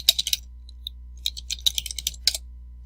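Bursts of crisp, close keystrokes on a computer keyboard come in short clusters separated by brief pauses, over a faint low hum, with no talking.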